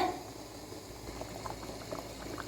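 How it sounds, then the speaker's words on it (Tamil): A thick Kumbakonam kadappa curry bubbles in a pot, soft steady plopping and simmering at low volume, close by. "கடப்பா நல்லா கொதிக்குது பாருங்க"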